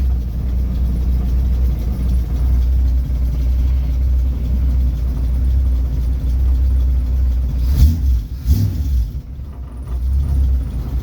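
A 1957 Chevy 210 engine with an exhaust leak runs just after a cold start, giving a steady, close, low rumble with a couple of brief surges around the middle and no talking.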